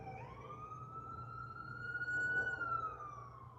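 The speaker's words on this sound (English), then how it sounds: "I'm listening to the sirens." A distant siren outside holds a long rising then steady wail, faint over a low background hum, with no voices.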